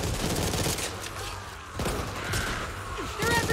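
Rapid gunfire in the co-op zombie shooter Back 4 Blood, a dense and continuous fusillade of shots with a faint voice underneath.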